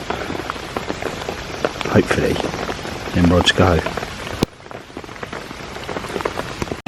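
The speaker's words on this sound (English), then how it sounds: "hopefully this rain breaks off a bit, because at the moment it's relentless" Heavy, relentless rain at a carp fishing lake in Chelmsford, Essex, a dense steady hiss with close pattering drops; someone talks briefly over it.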